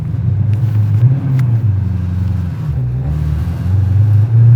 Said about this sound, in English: get it up to top gear in second gear